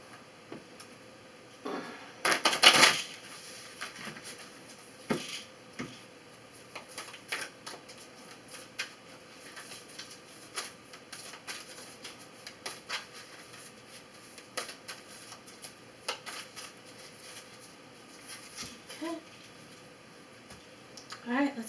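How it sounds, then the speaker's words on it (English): A deck of tarot animal spirit cards shuffled by hand: a quick burst of riffling early on, then scattered soft card taps and flicks, quiet and close. "Let's shuffle these up real quick here."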